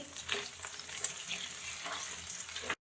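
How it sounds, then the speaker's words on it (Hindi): Potatoes and capsicum frying in oil, a steady close sizzle with light stirring scrapes through the whole stretch, no voices, stopping abruptly at the end. "यहाँ पे मैं डालूंगी इसमें थोड़ी सी शिमला मिर्चें, ये भी हम साथ में फ्राई करेंगे"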